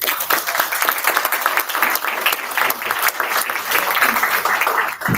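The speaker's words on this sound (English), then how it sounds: "give a round of applause" A room at a city board meeting fills with sustained applause, many hands clapping densely and evenly at moderate loudness for several seconds, with faint murmuring underneath.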